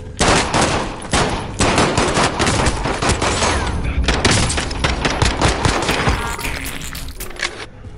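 Dense bursts of gunfire and machine-gun fire from the video game Call of Duty: Warzone rattle loudly and almost nonstop, with overlapping shots and a voice talking over the battle.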